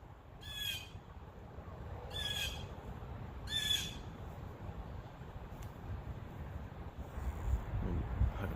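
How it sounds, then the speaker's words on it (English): Birds call outdoors: three harsh squawks come at roughly even intervals early on, then quiet, over a low steady background rumble, with no voices. "Birds."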